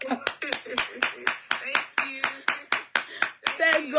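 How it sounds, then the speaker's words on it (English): Several people clap in a loose, uneven rhythm, sharp hand claps arriving roughly twice a second and mixed with talking voices, at a studio panel show. "let's clap"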